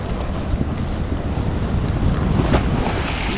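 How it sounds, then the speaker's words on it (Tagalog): Big ocean waves roll in at high tide, a loud, continuous rushing surf buffeted by heavy wind noise on the microphone, with a swelling crash toward the end and no talk. "Lalakihan ng mga alon."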